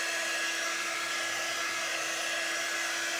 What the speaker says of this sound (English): a blow dryer. It blows air that's not really hot, but its purpose is to dry our transfer without harming our paint or our transfers, to dry our surface,